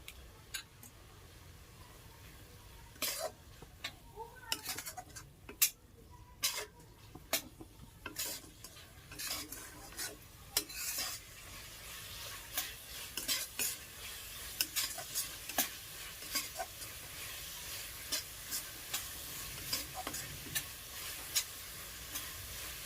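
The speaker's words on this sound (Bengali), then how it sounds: "মশলা কষানোটা খুবই সুন্দর হচ্ছে" Meat masala spice paste being stirred and fried in a pan with a little water, a steady soft sizzle under repeated scraping strokes of a spoon, close and fairly quiet with no talking.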